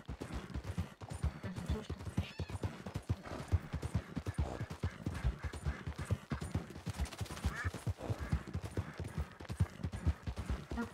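Horse hooves clop steadily in the Red Dead roleplay game, a rapid, even rhythm of close, crisp hoofbeats at a trot that continues throughout, with no talking.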